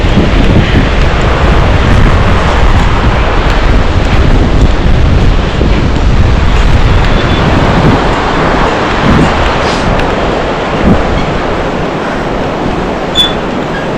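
Loud, constant roaring wind buffeting the microphone, a dense rumbling rush that barely changes over the whole stretch, with no voices.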